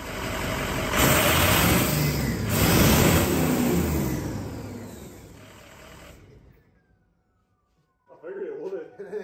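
A 6.0 diesel engine idling with a leaking up pipe, a loud rough broadband roar with hissing exhaust chuff, cutting off into near silence before a short burst of nearby noise returns at the end.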